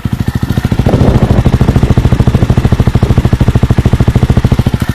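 Close and loud, a Jawa 350 motorcycle idles through its tuned exhaust with a rapid, even, thumping beat that holds steady throughout, no voices over it.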